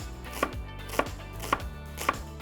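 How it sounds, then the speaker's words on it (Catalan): A knife slices onions into thin julienne strips on a board, giving four evenly spaced, crisp chops about half a second apart, close and clear with no talking. "ara, tallarem les cebes amb juliana"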